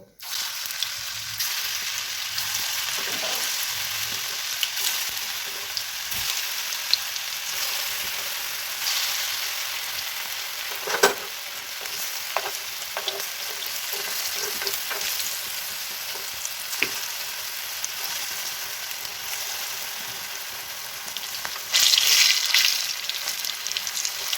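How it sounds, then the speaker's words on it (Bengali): Green jackfruit koftas fry in hot oil in a frying pan, giving a steady, close sizzle with light spattering throughout and a brief louder burst near the end, with no talking. "তেল গরম হয়ে এসছে, কোপ্তাগুলো এবার আমি এর মধ্যে দিয়ে দেবো।"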